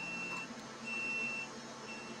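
A 3D printer beeps faintly and thinly a few times at uneven intervals as its print finishes, over a steady low hum and background noise.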